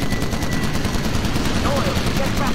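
Tail-gun machine-gun fire in the Call of Duty: United Offensive video game, a dense, continuous roar of rapid shots under droning engine noise, loud throughout.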